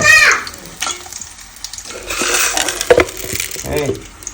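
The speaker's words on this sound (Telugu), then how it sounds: "వెల్లుల్లిపల్లి చెదగొట్టేసి వేయకపోతే ఆ విధంగా పేలుతాయి" Crushed garlic cloves crackle and pop in hot oil with a steady sizzle, and a utensil clinks against the pan now and then.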